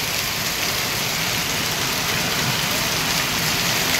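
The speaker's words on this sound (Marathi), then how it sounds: "जबरदस्त पाऊस पडतोय." Heavy monsoon rain pours down in a dense, unbroken hiss, loud and close throughout.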